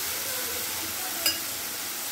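Dosa chutney ingredients roast in a pan with a steady close sizzle and frying hiss, broken by one brief clink of a utensil.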